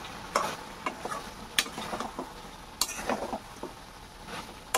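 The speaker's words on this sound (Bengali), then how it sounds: "গরম মশলা নাড়া দিয়ে মিশিয়ে নিতেছি।" A spoon stirs garam masala into prawns and drumsticks frying in a pan, giving soft intermittent scraping strokes over a faint, steady sizzle. The sound is fairly quiet and close, with no talking.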